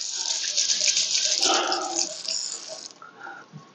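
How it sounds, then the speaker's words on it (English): Tap water running over hands being washed at a sink, a bright steady splashing flow with small splattering bursts that fades toward the end, fairly close. "now let me wash my hands really fast"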